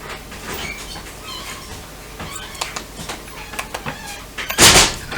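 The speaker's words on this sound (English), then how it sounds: "Massive metal door." A massive metal door in the video game Galaxy Albion grinds and rumbles open inside a reactor hull, with scattered clanks. It swells into a loud, broad whoosh near the end.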